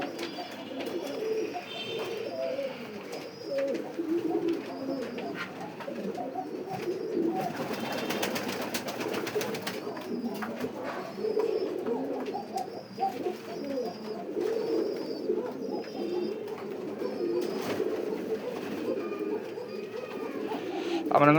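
Pigeons on a foreign-breed pigeon farm coo continuously in low, rolling phrases, with chirps and rustling around them while a person talks throughout.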